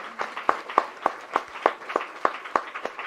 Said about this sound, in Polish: Brawa dla Pana